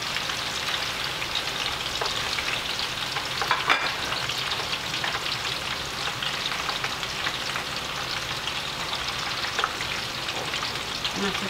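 Shallots and garlic fry in a pan among chillies for a spicy lung stir-fry, producing a dense, even crackling sizzle that holds steady throughout, close and fairly loud, with an occasional stir or clink.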